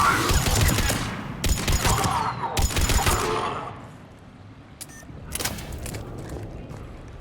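Rapid bursts of gunfire from a Mass Effect 3 firefight, several loud volleys in the first half, then quieter scattered shots trailing off.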